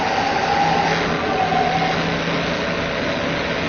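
Vacuum pump motor on a goat milking machine running steadily, a continuous close mechanical hum with a faint whine and no pauses or talk.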